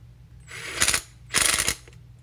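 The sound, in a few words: impact gun tightening EMT conduit fitting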